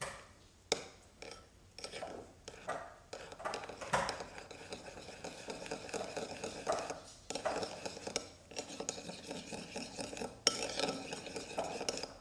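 A spoon stirs a yeast, flour and sugar mixture in a bowl, making repeated soft scraping and light clinking strokes in an uneven rhythm, close by and fairly quiet, with no talking.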